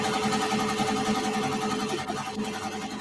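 Embroidery machine running steadily as it stitches down blue tape, a continuous mechanical whir with a brief dip near the end, close and fairly loud.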